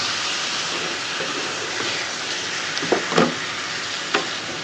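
Bottle gourd peel and potato frying in a pan while being stirred, a steady close sizzle with a few sharp scraping clicks of the spoon toward the end.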